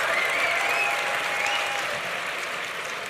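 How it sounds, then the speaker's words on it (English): Audience applause at a university forum, a steady wash of many hands clapping that fades slightly toward the end, with no talking over it. "I think those must be the undergraduates clapping"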